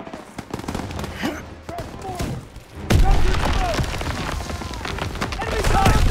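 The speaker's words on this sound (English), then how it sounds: "Gunfire! We must be near our guys." Bursts of machine-gun fire and explosions in Call of Duty: WWII, sparse at first then swelling into heavy, continuous shooting after a few seconds.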